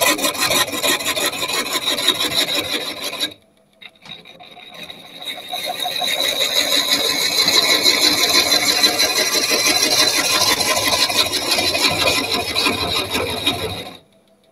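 A gouge cuts a lump of burr ash wood, giving a steady loud scraping and rasping tone. It breaks off for a short pause, then resumes as a long continuous cut and stops abruptly near the end.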